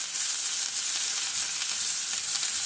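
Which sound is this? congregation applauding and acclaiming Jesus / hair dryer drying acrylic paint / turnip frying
turnip frying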